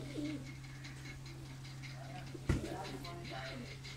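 Pigeons cooing softly on a sunny rooftop in Pakistan, repeated low coos over a steady faint hum, with one sharp knock partway through and distant voices in the background.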